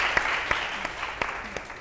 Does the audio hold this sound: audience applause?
yes